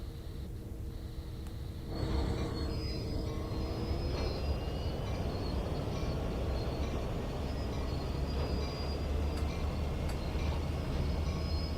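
Train running in the video game Train Sim World 2 on Sand Patch Grade, a steady low rumble and drone of the locomotive, with a short quieter stretch before the engine noise swells and holds evenly.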